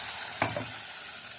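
Tomato sambar made with ground tomato puree heats in a pan with a steady soft sizzling hiss, broken once by a quick stirring scrape, close and alone.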